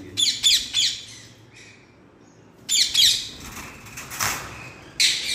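An Alexandrine (Raw) parrot, a breeder male checked at a pet market, gives loud harsh squawks in repeated bursts with short pauses between, no talking.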